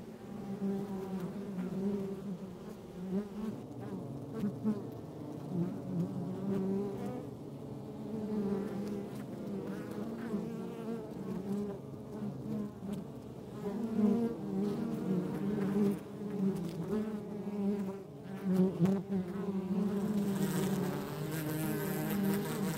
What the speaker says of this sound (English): See this bee here? So it's flapping its wings extremely fast.